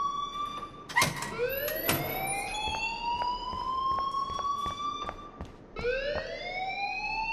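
An electronic alarm wails steadily in the Life is Strange video game, its tone slowly rising and repeating in long sweeps, with a few sharp clicks and knocks over it.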